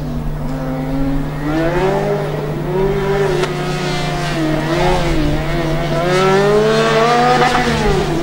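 A Formula Student race car in an endurance race holds a steady, buzzing engine note that rises and falls through gear changes, heard at moderate distance and clear throughout.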